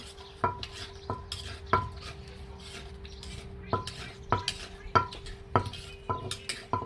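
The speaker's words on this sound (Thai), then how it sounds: "คนให้เข้ากัน จำให้แหนกเลย" Som tam ingredients being stirred and pounded together in a bowl: irregular clacks and knocks of utensil against the bowl, close and fairly loud, with a faint steady hum behind them and no talking.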